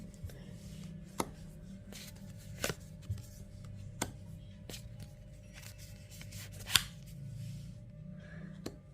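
Tarot cards being shuffled and drawn, quiet close riffles and sharp light snaps scattered irregularly over a soft background with no speech.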